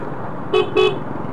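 Two short car horn toots, one after the other, cut through steady road rumble in a traffic jam.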